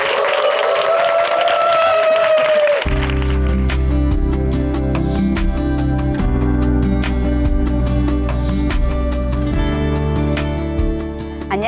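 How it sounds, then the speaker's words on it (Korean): A church congregation in Chuncheon applauds to welcome a speaker to the stage. A few seconds of voice and tones give way to loud music, with a steady patter of clapping running beneath it. "큰 박수로 모시겠습니다."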